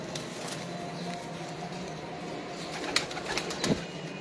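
Lakha pigeons, bred from Misse pigeons, coo in low murmuring calls amid constant outdoor hiss, with a few sharp clicks and a brief flutter near the end.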